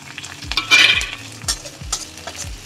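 Onion fries in a pan with garlic and ginger, stirred with repeated scraping strokes over a bright, loud sizzle and no voices.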